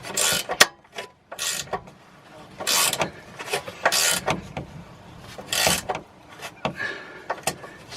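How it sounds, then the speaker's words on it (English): A bolt on a BMW E60 rear control arm is turned with a ratchet, giving close, repeated bursts of clicking and metallic rasping in an irregular rhythm. "Just turning the bolt now."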